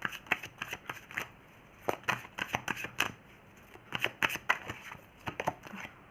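Tarot cards being shuffled and drawn, a run of crisp, irregular flicks and slaps, close and fairly quiet, in short bursts with small gaps between them.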